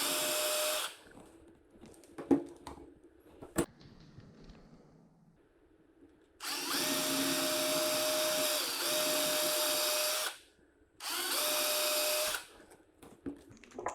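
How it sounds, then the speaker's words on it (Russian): A power drill whines loudly in three sustained bursts while drilling a replacement housing plug for a Minelab Excalibur II metal detector, with quieter clatter and handling noise between them. "Приступаем к сверлению."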